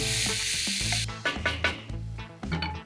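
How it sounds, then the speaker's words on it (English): Chorizo sizzling on a Weber kettle grill, a loud hissing sizzle that drops suddenly, then uneven crackling bursts and pops over a low steady hum, close up and without speech. "Let's get this chorizo on the grill."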